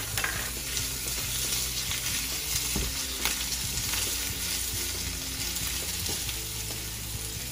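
Onion fries in a pan for a steak sub, giving a loud, continuous sizzle with occasional stirring scrapes and a steady low hum beneath it.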